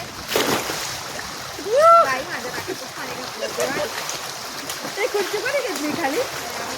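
Water splashes and sloshes through the whole stretch of a family picnic at a villa, mixed with excited children's and adults' voices and shouts in the water.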